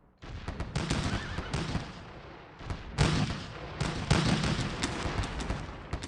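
Musket volleys crack repeatedly in a Gettysburg battle game, sharp loud reports and scattered shots rolling over one another in quick succession, with no talk heard.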